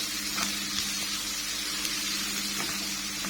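Onions sizzle steadily in a hot pan with black pepper, with occasional scrapes of stirring, a constant close frying hiss with no talk.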